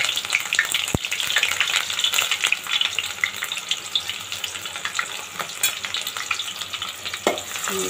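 Onions fry in hot oil in a pot, producing a dense, close crackling sizzle with frequent stirring scrapes and clatter throughout.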